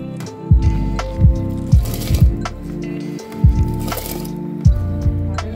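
Rice cooks in a pot of boiling water on a gas stove. Close, irregular bubbling plops and bursts rise over a low simmer with no voices.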